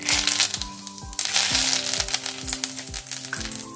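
Curry leaves hit hot oil for red chilli garlic chutney and set off loud, continuous crackling and spitting sizzle close by, with a low steady hum underneath.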